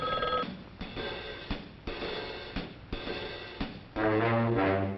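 An alarm clock with a telephone-style ring trills in repeated bursts separated by short gaps, close and fairly loud, before a music cue swells in at the end.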